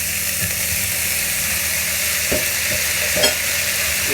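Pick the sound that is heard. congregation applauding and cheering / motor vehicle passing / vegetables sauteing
vegetables sauteing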